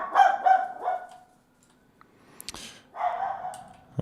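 A dog barks indoors, a quick close burst of barks at the start, a short pause with faint clicks, then another bark near the end.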